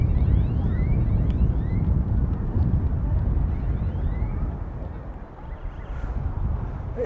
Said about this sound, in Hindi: इतनी ज़बरदस्त हवा चल रही है